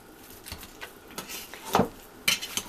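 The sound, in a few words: mashing meatloaf mixture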